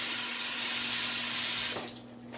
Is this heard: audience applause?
no